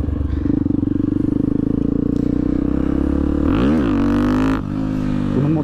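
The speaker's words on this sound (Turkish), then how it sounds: "Bu motoru tekere kaldıracağım." A motorcycle held up on its rear wheel in a wheelie, the engine loud and close with a steady droning rumble that swells into sharp revving surges toward the end.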